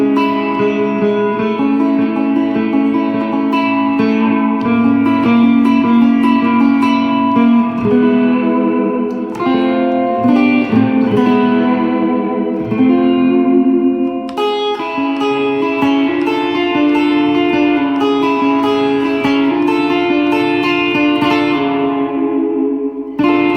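Electric guitar playing partial chords in surf rock style, drenched in heavy reverb, with loud sustained strums ringing into one another and trailing off in long echoing tails.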